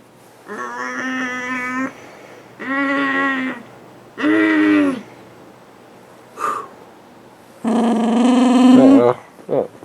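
A dog growls and grumbles in five drawn-out, throaty bursts spaced by short pauses, close and fairly loud, with a brief snort-like sound between the fourth and fifth.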